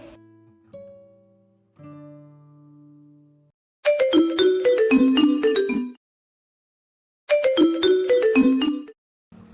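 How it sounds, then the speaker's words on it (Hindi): A mobile phone rings at home. A few soft tones come first, then two loud bursts of a repeating melodic ringtone, each about two seconds long, separated by a short silence. "बेटा किसका फोन आ रहा है?"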